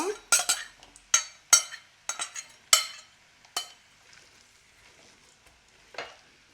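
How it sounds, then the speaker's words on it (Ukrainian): Chopped onion poured into hot oil in a pan, giving a series of sharp sizzling bursts and clinks over the first few seconds, then fading to a faint crackle, with no voices. "Я розігріла масло і одразу сюди всипаю всю цибульку"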